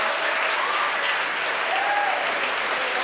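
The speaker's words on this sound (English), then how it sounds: "The crowd here at headquarters cheering." Crowd at SpaceX headquarters cheering and applauding during a Starlink launch, a dense, steady wash of clapping with a few whoops rising above it throughout.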